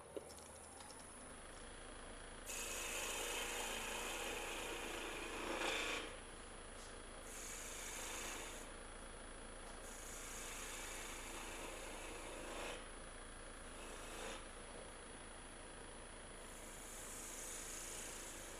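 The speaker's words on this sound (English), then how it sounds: "it's hard to get in there with sandpaper" Sandpaper rasps against a carved wooden snowman in long steady strokes that come in bursts of a few seconds, with quiet pauses between them.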